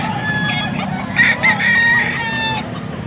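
Chickens at a Pampanga tiangge market cluck and a rooster crows loudly nearby over a steady background hum, with no talking.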